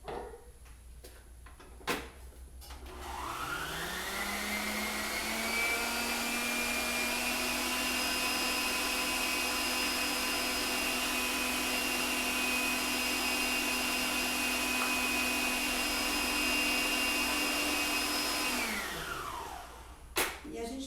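An electric mixer beats eggs with butter and sugar for cake batter, spinning up to a steady, loud whirring drone that holds for about fifteen seconds before winding down, with a few clicks at start and end.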